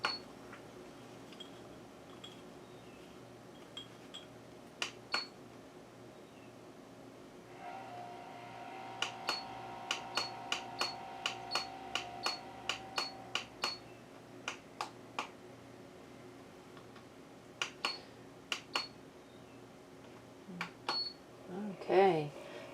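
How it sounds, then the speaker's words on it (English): An essential oil diffuser runs in a quiet room, giving off a steady low hum with a faint tone, while sharp clicking ticks repeat in bursts over its drone. No one talks. "Okay, so that sound is just my diffuser."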